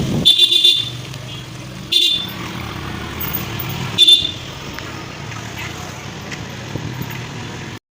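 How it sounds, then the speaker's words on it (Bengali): Steady traffic rumble in a jam with engines idling, broken by several loud car horn honks near the start and around the middle, then a continuous road drone, on the way to a Rath Yatra fair. "আর এখানটা এত জ্যাম লেগেছিল কি আর বলবো"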